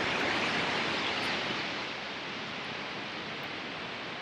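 Steady, dense roar of a large waterfall on Iceland's Golden Circle, a constant broad rush of falling water that eases slightly in level but never breaks, heard alone without voices.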